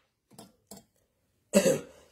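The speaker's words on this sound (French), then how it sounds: "Ah, je tousse, hein." A woman coughs: two faint short coughs, then a louder, harsher cough after a pause, close and alone.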